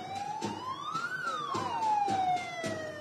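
An ambulance siren wails loudly nearby, its pitch rising then falling as it passes in traffic during a funeral procession, with steady road noise beneath.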